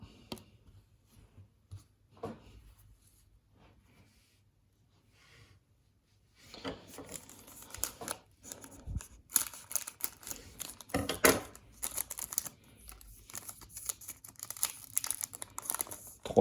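Crinkly plastic wrapper of a 2019-20 Panini Revolution basketball card pack being torn open and handled up close, with faint scattered rustles at first, then a dense burst of crackling, crumpling and tearing through the second half.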